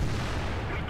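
A single heavy boom from the SU-100Y tank's cannon in a tank video game, loud and close, its low rumble filling the short moment before fading.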